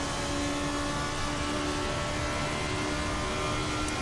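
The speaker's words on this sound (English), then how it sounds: "Let me see if I can safely accelerate out of the first chicane here" A GP2 race car in Assetto Corsa accelerates out of a chicane, its engine a steady, fairly loud drone with a whirring high edge and no talk.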